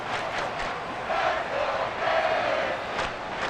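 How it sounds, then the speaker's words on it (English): Stadium crowd noise from a Madden 24 NFL football simulation on PS5, Dolphins versus Titans, as fans roar to force a false start on third down; a steady, dense wash of distant cheering with slight swells, no clear talk. "this crowd trying to force a false start here"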